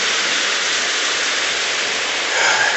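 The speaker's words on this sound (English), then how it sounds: "Got some more heavy rain coming." Heavy rain pours down in a loud, dense, unbroken roar of hiss and splatter that swells slightly near the end, with no talking.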